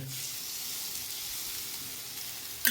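Beaten egg with spiny gourd fries in a pan, a soft, steady sizzle and hiss that runs continuously and faintly without pause.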